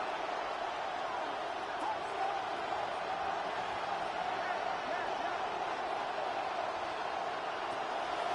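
Steady crowd roar from a stadium in a football video game building before a third down, dense and continuous with no clear peaks, and an announcer's voice faintly under it.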